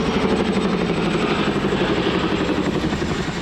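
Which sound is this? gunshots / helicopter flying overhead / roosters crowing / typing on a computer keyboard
helicopter flying overhead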